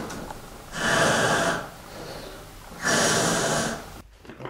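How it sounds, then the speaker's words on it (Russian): Two deep rescue breaths are blown during a CPR first-aid demonstration: a pair of long, loud, breathy rushes, each lasting about a second, separated by a short pause, with no talking. "после чего осуществляется 2 глубоких вдоха"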